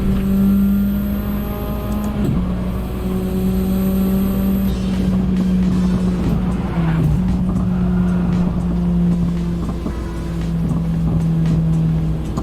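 A race car engine drones steadily in a VR racing video game, with sustained high revs, brief drops and shifts, and loud buzzing tones that hold and slide over the full stretch, and no one talking.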